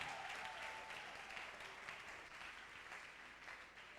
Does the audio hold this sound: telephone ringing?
no